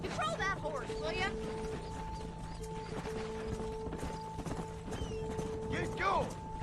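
Rhythmic clip-clop of horse hooves in Red Dead Redemption under a droning musical background, with a horse whinnying at the start and near the end.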